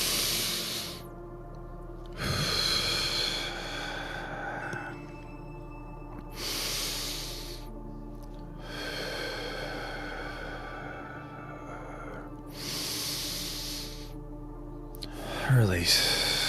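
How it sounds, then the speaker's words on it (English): Slow guided breaths drawn in through the nose and let out through the mouth during an evening meditation, soft airy rushes repeating every few seconds, close and quiet over a low background hum. "In through our nose, hold for a moment. Exhale through our mouth."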